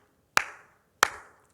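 Two separate, crisp hand claps in a quiet room, close and sharp, each followed by a short reverberant decay, spaced about two-thirds of a second apart.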